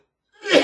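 One short, close cough bursts out of silence and cuts off abruptly.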